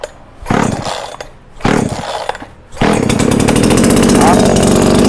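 A Sunil 76 chainsaw engine is pulled twice, catching briefly each time, then fires and settles into a loud, steady, close running roar. Someone speaks over it.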